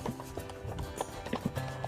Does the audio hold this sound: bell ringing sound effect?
no